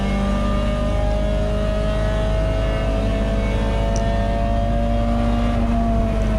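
A Peugeot 206 GTI touring race car in the CSCC Tin Tops series accelerates hard down a straight at a wet Donington Park GP, its engine note droning loud, close and continuous as the revs climb steadily.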